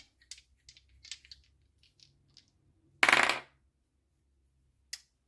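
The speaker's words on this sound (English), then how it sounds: "let's roll the dice as well" Dice tumbling onto a surface during a spiritual tarot-style reading, a loud rattling burst of about half a second followed later by a single sharp click, with faint small taps before it.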